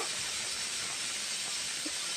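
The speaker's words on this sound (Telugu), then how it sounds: "రైస్ కూడా విజిల్ వచ్చేసింది" Pressure cooker on a home stove releasing steam while cooking rice, a steady close hiss that runs unbroken from start to end with no clear whistle blast.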